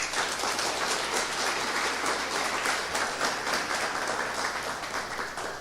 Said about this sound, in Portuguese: Então dê uma salva de palmas para ele.